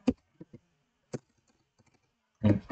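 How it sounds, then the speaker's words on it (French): Typing on a computer keyboard while entering code, a few sparse, sharp key clicks spaced out over a couple of seconds, close and isolated, followed by a brief denser burst of noise. "si je suis capable de cliquer sur les touches de mon clavier"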